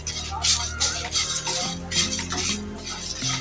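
Whole spices, including dried red chilli, a piece of nutmeg and bay leaf, are dry-roasted together in a pan, heard as close scraping, rattling and clinking of a utensil stirring them in short uneven bursts.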